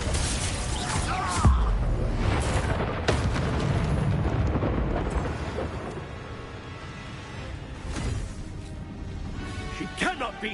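Confringo blasting spells explode during a Hogwarts Legacy fight, loud booming bursts and crackling blasts in a dense, rumbling battle mix, with voices shouting among the hits.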